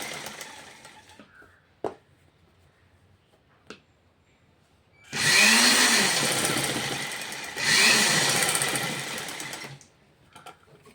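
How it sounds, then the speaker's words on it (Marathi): An electric sewing machine stitches a blouse in two loud, steady bursts of rapid mechanical whirring and clatter, each lasting a few seconds, with quieter handling clicks before and after. "जे आपण खुणं केले त्याच्यावर आधी टीप मारून घ्यायची."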